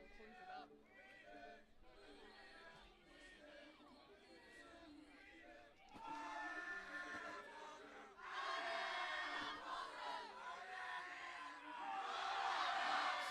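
Spectators at the European Youth Cup 2024 archery individual finals cheer loudly for the archers. The chants and shouts build in waves and swell toward the end, with a commentator talking over them.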